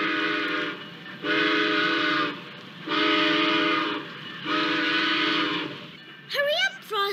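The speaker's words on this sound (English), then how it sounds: "The train is pulling out." A train whistle blows in four long, steady blasts, with a voice breaking in at the end.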